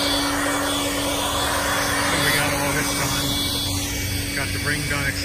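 A new lawn care leaf blower running nearby, a constant engine whine and airy roar holding steady the whole time, with people talking over it.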